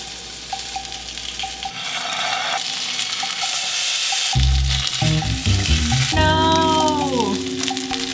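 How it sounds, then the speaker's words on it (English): Yaki onigiri rice balls frying in a generous amount of butter in a pan, a steady sizzle building louder midway, with clinks of utensils and pan handling, no voices. "I'm gonna put a generous amount of butter on this pan"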